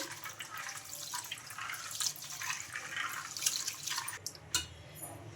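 Fenugreek seeds and peanuts being rinsed in water, with soft splashing, trickling and dripping close by, quiet and irregular, ending in a couple of sharper sloshes.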